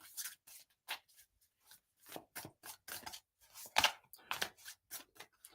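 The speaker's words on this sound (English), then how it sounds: "I'm still shuffling for you, so I want to pull you a card" Tarot cards are shuffled by hand in quiet, close bursts of riffling and sliding, short irregular rustles separated by brief pauses, with no talking.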